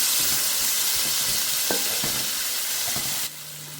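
Tomatoes and green chilies sauté in hot oil, sizzling loudly and steadily from close by, with a few soft knocks of stirring before the sizzle suddenly drops off near the end. No voices.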